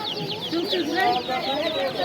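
Chickens and other fowl cluck and chirp at a Turkish open-air market, with a busy chorus of bird calls near and loud while someone talks over them.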